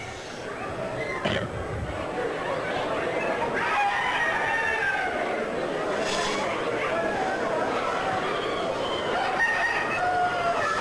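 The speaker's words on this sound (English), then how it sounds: "Black Ortingtons. Imagine these are all the roosters." Black Orpington roosters crow repeatedly in a livestock barn at a state fair, several overlapping calls near and farther off amid steady crowd murmur and occasional voices.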